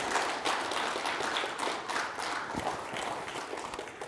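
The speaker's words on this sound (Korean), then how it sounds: "이찬희 회장님을 큰 박수로 맞아주시기 바랍니다" A seminar audience applauds to welcome a lawyer and committee chair to the podium at a unification-law forum, steady dense clapping filling the room throughout without a break.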